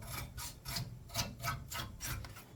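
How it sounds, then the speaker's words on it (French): Brushing or wiping dust from inside an Amiga A2000 computer case, a close, steady series of about seven rhythmic scrubbing strokes with no voices. "J'en profite pour faire un peu la poussière."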